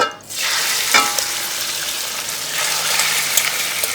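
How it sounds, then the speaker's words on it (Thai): Marinated pork hits hot oil in a pan and stir-fries with a steady loud sizzle after a brief quiet moment, with occasional spatula clinks and scraping and no talking. "พอน้ำมันเริ่มร้อนแล้วนะครับ ทีนี้เราก็จะใส่ตัวหมูที่เราหมักไว้ครับ"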